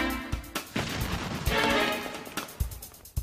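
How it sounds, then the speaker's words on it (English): Cannon fire from a muzzle-loading gun sending Alamo-sized cannonballs into a test wall, a series of sharp booming blasts and crashing impacts, loud and close, with dense rumbling debris noise in between. "cannonballs, close to the size used by Santa Anna at the Alamo, will be fired at the test wall"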